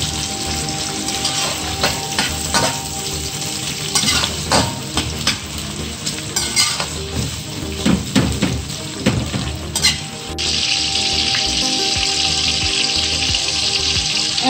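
Onions sautéing in hot oil in a pan, a loud continuous sizzle broken by repeated spatula scrapes and clinks against the metal, close up, with the frying settling into an even hiss near the end and no speech.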